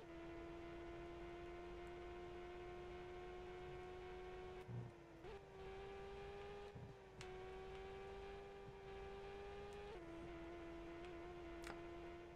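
An IndyCar race car engine from the PS2 game IndyCar Series drones at a steady high pitch through the whole stretch, dipping briefly at gear shifts and then climbing again, constant and fairly close with no talk over it.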